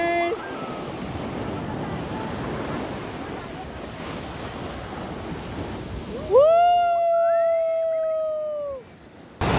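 Ocean surf washing onto a beach, a steady broadband rush of breaking waves with wind buffeting the microphone, while people shout excitedly over it and a voice rises in a loud cheer near the end.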